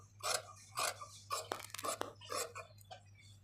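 Scissors snip repeatedly through lining fabric trimmed just below the border of a blouse sleeve, a series of close, crisp rasping cuts in an uneven rhythm over a steady low hum.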